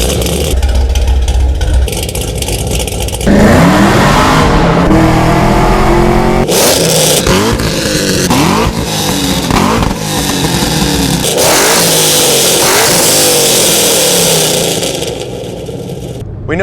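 Loud revving of a modified car engine making over 700 rear-wheel horsepower, repeated sharp throttle blips and sustained high-rev roars filling the clip, close and powerful.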